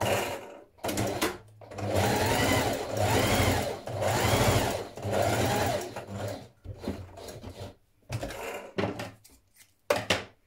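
A sewing machine stitches a row of gathering along a dress, several sustained whirring runs in close succession with brief pauses and fabric handling between them, close and clear with no talking.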